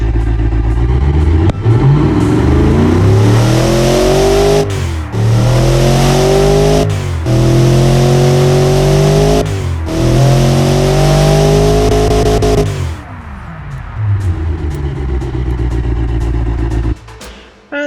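A Cadillac 500ci V8 engine in the Automation video game revs hard in repeated loud pulls, pitch climbing through each rise before cutting off, four or five sweeps in a row, then settling to a rough idle.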